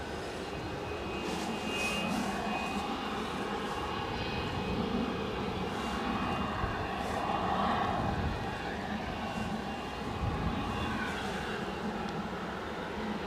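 A departing airliner bound for Stornoway roars steadily at Edinburgh airport, a sustained distant engine rumble that holds at a constant level throughout.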